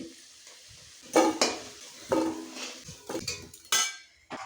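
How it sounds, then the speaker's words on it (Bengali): Fried potatoes being lifted from a pan of hot oil with a metal utensil: a quiet background sizzle broken by several sharp scraping and clinking strikes against the pan, close and irregular. "আলুগুলো ভাজা হয়ে গেছে এবার আমি তুলে নিচ্ছি"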